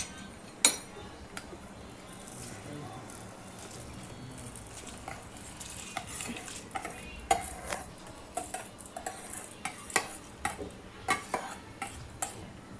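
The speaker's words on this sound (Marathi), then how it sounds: "आता हा तांदूळ मी त्यात घालणार" Soaked rice is poured into boiling water in a pot and stirred, giving scattered sharp clinks and scrapes of a utensil against metal over quiet background bubbling, close by and with no talking.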